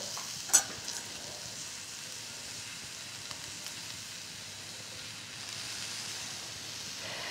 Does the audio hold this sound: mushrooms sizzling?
yes